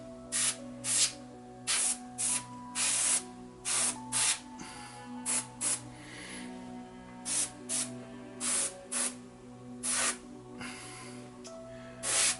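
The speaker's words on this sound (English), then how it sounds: "So I will do the broad strokes, and then I'll go do a deep cleaning on the airbrush" An airbrush sprays paint onto a Cthulhu: Death May Die miniature in a rapid series of short, close hissing bursts with brief gaps between them, some bursts coming in quick pairs.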